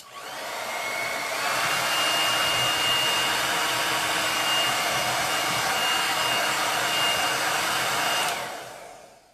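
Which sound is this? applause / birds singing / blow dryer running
blow dryer running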